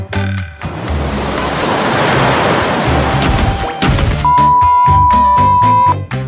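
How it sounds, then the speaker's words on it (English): Ocean waves surging over tide pools at Botanical Beach, a loud continuous wash of surf building and crashing, blended with upbeat music and wind. "When you explore tide pools, you've got to watch the waves, which Ted forgot"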